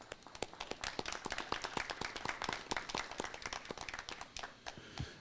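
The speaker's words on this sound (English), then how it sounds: "let's give a round of applause to all of our major sponsors." A small group clapping for sponsors at a Lunar New Year festival press conference, loose, uneven handclaps close by that thin out and stop after about five seconds.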